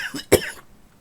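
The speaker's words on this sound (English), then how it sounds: "Sorry, I had a cough there." A single sharp cough, close and abrupt, trailing off quickly into quiet.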